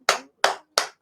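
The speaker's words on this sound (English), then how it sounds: "I'll give a round of applause for that." Three slow, separate hand claps, close and sharp, evenly spaced with silence between them.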